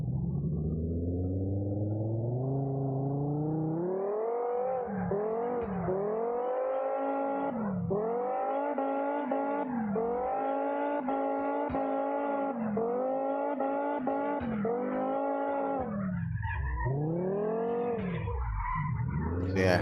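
A car engine in CarX Drift Online revs hard while drifting, sweeping up and down in repeated surges and drops of pitch across a long, steady stretch, loud and close, with tire noise mixed in.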